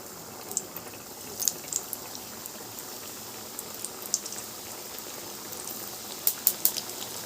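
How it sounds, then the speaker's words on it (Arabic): Flour-dusted eggplant slices fry in oil in a pan, giving a steady close sizzle with scattered small pops and crackles throughout. "هنبتدي نقلي كده البتنجان"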